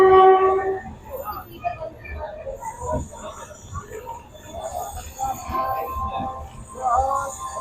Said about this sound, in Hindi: देखिए ये ट्रेन जो आ रही है ये जाएगी रक्सौल